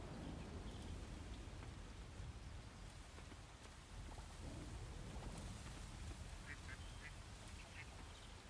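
Rain and thunder in the farming video game Coral Island: a constant hiss of rainfall with low rumbles underneath, steady and unbroken throughout.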